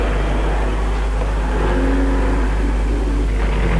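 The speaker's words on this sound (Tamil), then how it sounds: "ஹீரோ கார் வந்திருக்கு" A car arriving in a 1970s Tamil comedy film, its engine a loud, steady rumble with a slight rise as it revs, alone without voices.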